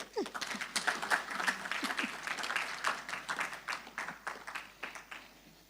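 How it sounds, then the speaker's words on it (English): Dense applause from an audience at a live-streamed poetry award event, steady rapid clapping that swells and fades slightly across the clip, loud and close with no talk over it. "So a round of applause, please."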